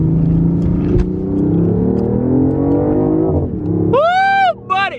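BMW i8 engine revving hard toward redline, a loud sustained rising engine roar that climbs in pitch and then cuts off, followed by an excited shouting voice close by.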